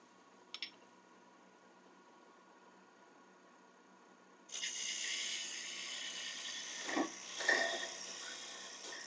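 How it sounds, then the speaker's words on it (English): A steady, hissy scraping of a parting tool cutting into the end grain of a wood spindle spinning on a Shopsmith lathe starts abruptly partway through, rough and continuous, with a couple of louder surges. "That's because actually I'm cutting into end grain at that point"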